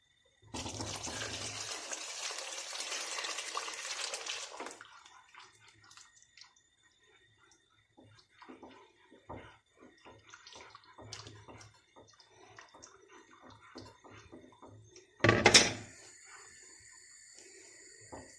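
Thick flour batter pours steadily into a pot of soup on the stove for a few seconds, followed by quieter clinks and small stirring sounds, then a brief louder splash near the end.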